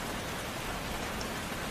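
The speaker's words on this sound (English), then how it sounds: "it started raining." A downpour of heavy rain hisses in a dense, unbroken wash of noise, steady and close, a cartoon sound effect for a rainy walk with no voices or other sounds on top.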